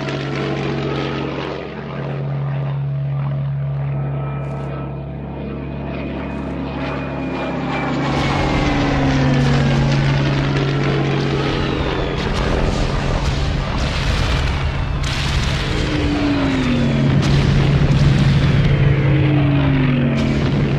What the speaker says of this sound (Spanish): Los aviones pasaban por encima de nosotras.